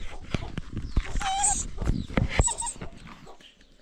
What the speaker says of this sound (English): let me take my dog outside because it's making noise